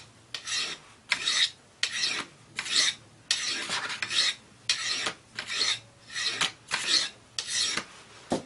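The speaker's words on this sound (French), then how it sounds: "je passe sur une pierre à grain plus fin après." A knife blade is drawn across a finer-grit whetstone in steady repeated strokes, about a dozen rasping swipes at an even rhythm, close and clear with no talking.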